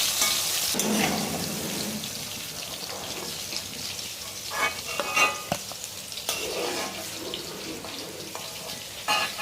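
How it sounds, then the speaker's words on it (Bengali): Pieces of pointed gourd (potol) fry in hot oil while being stirred, a gentle sizzle broken by scraping and clattering stirs, with running water heard briefly in between. "এখন এগুলোকে আমি ভালো করে ভেজে নিচ্ছি"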